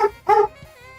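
A single nearby dog gives two quick barks, the second a bit fuller, with no talk and only quiet room background after them.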